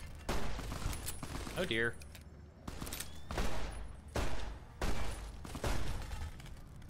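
Gunfire in Fallout: New Vegas, a series of loud close shots and bursts repeating at irregular intervals, with a person talking briefly between them.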